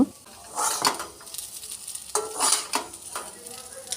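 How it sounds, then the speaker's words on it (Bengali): Chow mein with beetroot and carrot being stir-fried in white oil with a metal spatula, giving light scraping and clinking strokes against the pan in two bursts over a soft sizzle, close by and without talk. "মাঝে মাঝে এর মধ্যে দিয়ে দেব সাদা তেল আর ভালো মতো ভাজবো"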